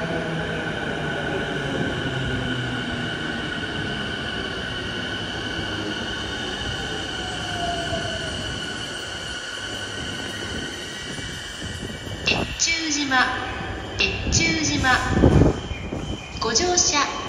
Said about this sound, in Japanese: The local train bound for Soga will soon arrive on track number 1.